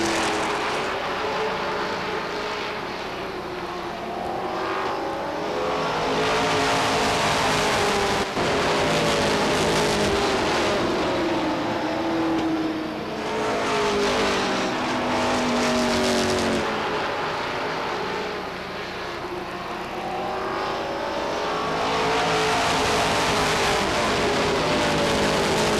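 Stock cars racing at Beech Ridge Motor Speedway in 1992, a dense, loud roar of engines that swells and recedes as the pack passes, continuous for nearly half a minute.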